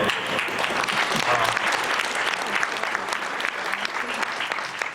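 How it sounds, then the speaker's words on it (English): An audience in a room gives a sustained round of applause, dense clapping that stays loud and steady for several seconds with faint crowd murmur underneath. "Okay, round of applause for everyone."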